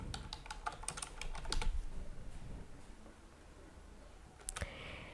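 Someone types Updraft Plus into a WordPress plugin search box on a computer keyboard: a quiet run of quick key clicks, denser at the start, then a short final burst.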